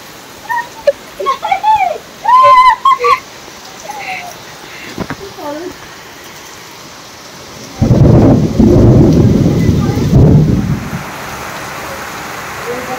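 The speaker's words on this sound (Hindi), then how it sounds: "देखो आमर की वर्षा" Heavy rain pours down in a village, with a loud rumbling burst of thunder in the middle, after someone speaks briefly over the steady rainfall.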